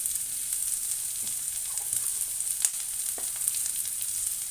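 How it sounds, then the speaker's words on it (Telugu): Onions with a pinch of asafoetida and salt fry steadily in oil for a vegetarian brinjal fry, a continuous close sizzle broken by a few soft clicks of a spoon against the pan. "కొంచెం ఉల్లిపాయలు దోరగా వేగాలండి."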